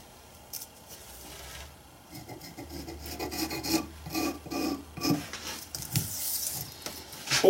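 A metal piece is cut for a welding repair, giving a steady rasping, scraping sound in uneven strokes that grows louder and busier toward the end, with no talking.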